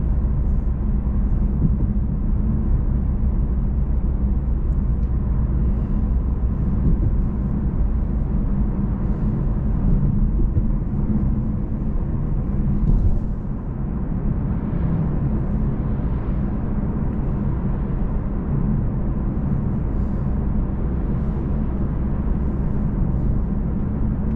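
Inside a Lexus IS350 F Sport on the move, a steady low engine drone and road rumble hold at low revs for the whole stretch, even and unchanging, with no voices.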